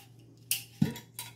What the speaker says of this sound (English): get a spoon and stir it up because it needs to be stirred